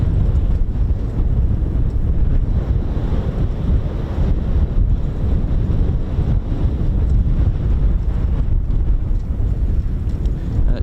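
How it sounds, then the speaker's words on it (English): Strong wind buffets the microphone at an outdoor air weapons range in Holbeach, a continuous loud low roar with gusty fluctuations throughout. "It is windy, as usual."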